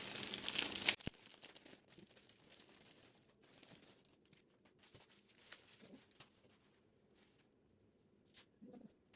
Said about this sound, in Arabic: نقص من باكو الزيت.